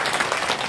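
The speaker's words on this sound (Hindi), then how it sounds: "दोनों हाथ ऊपर उठा जोरदार तालियां के साथ" A crowd at a kavi sammelan poetry gathering in Mandawa breaks into vigorous clapping, a brief, dense burst of applause with no voices over it.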